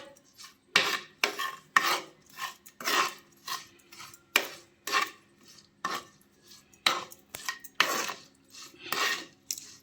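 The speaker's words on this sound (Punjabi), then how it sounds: "ਹੁਣ ਤੇ ਇਹਨੂੰ ਰਲਾ ਲਾਂਗੇ ਚੰਗੀ ਤਰ੍ਹਾਂ" A spoon mixes garlic pickle with salt and chili in a bowl, scraping and clinking against the sides in a steady series of close, rhythmic strokes with no talk.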